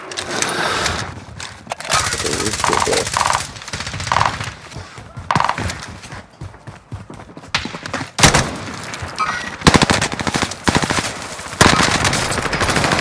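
C58 machine gun fire from a Call of Duty Warzone match on Rebirth Island, heard as repeated loud automatic bursts with short gaps, the last few seconds carrying dense sustained volleys.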